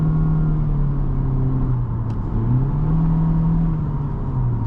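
A 2019 Honda Civic Sport with a CVT accelerates, heard from inside the cabin as a steady, loud engine drone and road rumble that slowly rises and dips in pitch, with no talking.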